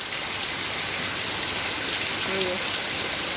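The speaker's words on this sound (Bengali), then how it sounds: "এত বৃষ্টি জোর মুষলধারে এসে গেল" Heavy monsoon rain pours steadily into a courtyard, a dense continuous hiss of downpour with no pauses, with a faint voice briefly audible partway through.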